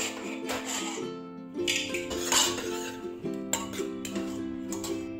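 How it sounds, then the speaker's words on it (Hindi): Pressure cooker lid being opened after cooking radish, with metallic clanks and clinks of the pot and lid, close and fairly loud, several irregular knocks over a steady tonal background. "अब इसका ढक्कन खोलेंगे।"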